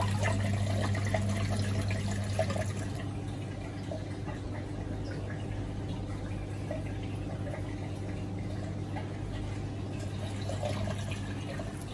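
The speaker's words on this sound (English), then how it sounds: "So as you can see, there is water sound." Water runs from a hose into an arowana aquarium tank, a steady, continuous rushing and bubbling fill that stays even and fairly close throughout.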